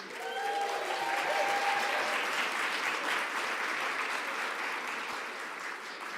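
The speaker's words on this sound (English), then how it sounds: "Can we get a round of applause, please?" Steady, full applause from a Match Day 2025 crowd at Burrell College of Osteopathic Medicine, dense clapping held at an even level throughout, slightly distant with a brief voice early on.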